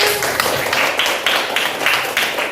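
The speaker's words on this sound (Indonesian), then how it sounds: "Tepuk tangan." A class applauds a group that has just finished presenting, with steady, fairly loud clapping from many hands filling the whole moment.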